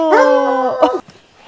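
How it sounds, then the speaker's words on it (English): A dog lets out a single short, loud howl up close, rising and wavering for about a second before breaking off into quiet. "And the neighbor's dog."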